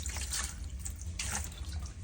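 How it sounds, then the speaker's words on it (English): Tap water runs over fish being rinsed at a sink, a steady splashing stream with brief surges as the fish is moved under it. "wash my fish really good"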